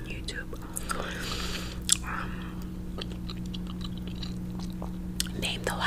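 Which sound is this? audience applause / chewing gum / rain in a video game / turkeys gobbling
chewing gum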